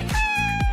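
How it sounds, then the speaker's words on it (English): A cat meows twice, a clear harmonic call that rises then falls, close and loud with no other sounds around it. "That is a cat."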